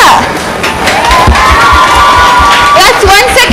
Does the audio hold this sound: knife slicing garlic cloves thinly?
no